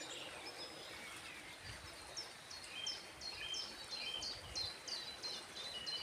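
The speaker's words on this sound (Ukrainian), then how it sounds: "І річечка, і пташки таке враження, що на кожному дереві сидять." Birds chirp and sing in repeated short calls over a steady broadband wash like flowing water, fairly faint and continuous.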